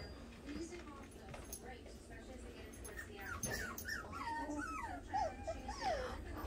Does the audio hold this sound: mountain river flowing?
no